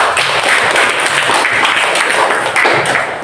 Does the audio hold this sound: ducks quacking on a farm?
no